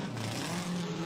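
A Mark IV Supra drift car battles a Ford Mustang in a Formula Drift event, its engine giving a loud, continuous roar with no break.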